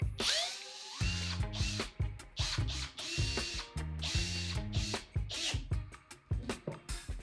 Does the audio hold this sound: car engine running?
no